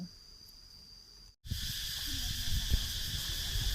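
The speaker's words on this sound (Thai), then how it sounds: "อันนี้ก็คือเสียง จากธรรมชาตินะคะ เสียงจักรจันทร์" A continuous high buzzing drone of cicadas at a hilltop temple on Phu Phan mountain, Thailand, joined by a brief cut and then louder hissy outdoor noise with rustling below.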